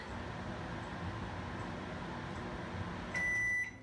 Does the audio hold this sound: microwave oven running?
yes